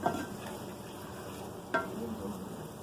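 A spoon stirs McCormick taco seasoning into a creamy burrito casserole, making a steady close scraping and gentle sizzling texture for about three seconds, with one brief sharper clack partway through and no speech.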